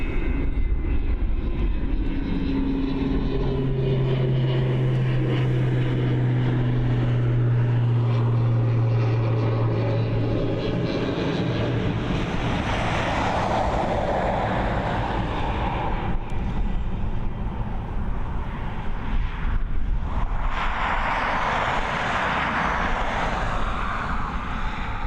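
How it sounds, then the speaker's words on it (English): An ATR 72-600 twin-propeller airliner departs Dublin Airport with a loud, steady engine and propeller drone that holds throughout, its tone rising and swelling as the aircraft pulls away. "this ATR 72-600, this twin propeller aircraft, heading out of Dublin to begin that journey over to Leeds"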